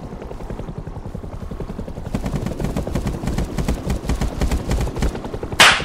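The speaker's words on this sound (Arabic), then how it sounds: "الطيارة الطيارة الطيارة الطيارة بتضرب علي." A helicopter in the Rust survival video game, with a dense rapid rotor thumping that grows louder partway through, ending in a short sharp burst of gunfire.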